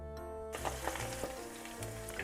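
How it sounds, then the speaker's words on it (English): Kakiage tempura, a mixed vegetable and seafood fritter, sizzles steadily in hot frying oil, a dense crackling hiss with scattered pops that starts abruptly after a brief quieter moment and continues alone without talk. "Let's fry the last variation."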